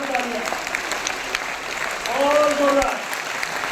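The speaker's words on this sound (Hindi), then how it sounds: "ऐसे प्यारे प्यारे माता पिता के लिए एक बार जोरदार ताली बजाओ, दोनों हाथ उठाकर" A crowd at a motivational career-guidance talk claps loudly with both hands raised, a continuous roar of applause swelling midway, while a voice calls out over the clapping.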